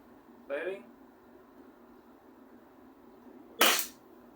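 A KJ Works CZ Shadow 2 airsoft pistol fires a single sharp, close crack, preceded a few seconds earlier by a short spoken word, with a faint steady hum in the quiet background.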